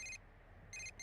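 Phone ringing in the video game Persona 4 Golden: two short bursts of a bright electronic ringtone separated by a pause, clear and alone over a faint low background hum.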